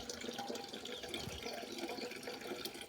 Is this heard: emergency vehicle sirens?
no